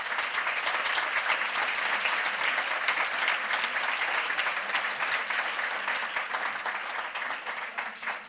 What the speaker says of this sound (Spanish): Yo le voy a pedir un aplauso para ellas dos